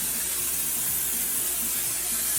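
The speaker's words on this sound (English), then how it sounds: "I'm going to spray on top of the meat again" Cooking oil sprays onto meat sitting on a cooling rack, a continuous airy hiss held for a couple of seconds at close range, with no talking.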